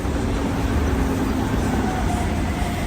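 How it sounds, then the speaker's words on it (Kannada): A loud, steady low rumble fills the air, like a train rolling past nearby, with a constant roar and no distinct voices. "ಟ್ರೈನ್ ಹೋಗ್ತಿದೆ ಹಿಂದೆ."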